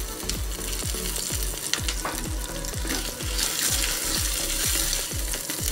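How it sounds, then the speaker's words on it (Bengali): Ginger and chopped cashews fry in a pan, a steady sizzle with rhythmic scraping of a spatula stirring at a regular beat, close and continuous. "এটাকে একটু ভালো করে ভেজে নেব, জাস্ট আদা কাঁচা গন্ধটা চলে যাওয়া পর্যন্ত।"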